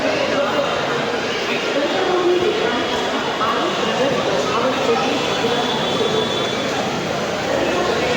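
Mumbai local train at Churchgate railway station, a loud, steady rumble of carriages with squealing wheels and station clatter under a busy crowd, voices talking nearby.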